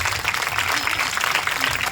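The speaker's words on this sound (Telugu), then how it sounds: "అందరం చేతులు పైకి ఒకసారి గట్టిగా చప్పట్లు కొట్టి దేవుని స్తుతిస్తున్నాం" A church congregation claps together, a dense steady burst of many hands close by, with a voice faintly present underneath.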